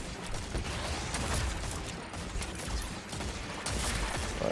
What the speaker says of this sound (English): The only thing I hate about Deadman's Tail is the reload.